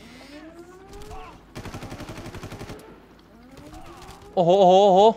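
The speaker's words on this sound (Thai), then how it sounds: "มันยิงผมพยายามจะยิงผม" Enemies in the Far Cry video game fire bursts of gunfire at the player, a rapid rattling volley in the middle, while someone talks and a siren-like wail rises at the end.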